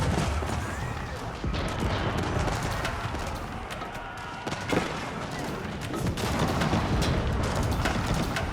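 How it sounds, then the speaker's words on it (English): Bombards firing in Age of Empires 4, a dense, steady barrage of booms and impacts mixed with battle clatter that keeps up the whole time, with a few heavier thuds standing out. "Regular bombards firing away."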